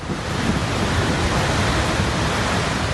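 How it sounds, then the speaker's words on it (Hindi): A swollen, flooding river in Kullu, Himachal, during heavy monsoon rain roars as a dense, steady broadband rush, loud and unbroken throughout with no voices. "उफनती नदी"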